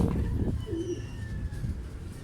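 A racing pigeon, back at the loft during the fourth lap of an MMFC race in Sta Magdalena, Sorsogon, gives low, soft cooing close by over a steady murmur of background noise.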